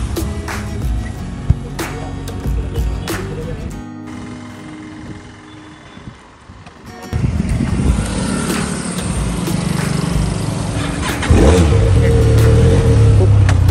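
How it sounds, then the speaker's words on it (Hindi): A Benelli Leoncino 500 motorcycle engine runs on a test ride, with a loud mid-pitched drone that dips quieter for a few seconds and then builds into stronger revving. Someone talks over parts of it. "अब कर लेते हैं इस बाइक की टेस्ट ड्राइव कि बाइक चलने में कैसी है"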